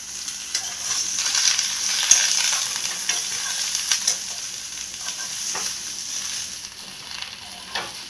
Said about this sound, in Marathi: आता आपल्याला हे वांग्याचे जे काप आहेत ते तेलावर टाकायचे आणि झाकण ठेवून चांगले उकडून घ्यायचे